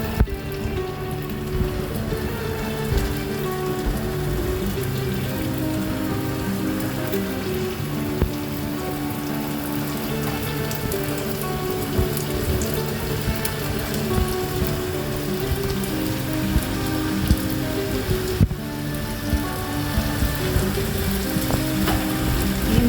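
Egg cake batter frying in hot oil, a steady crackling sizzle running the whole time with scattered pops, loud and close, no talking.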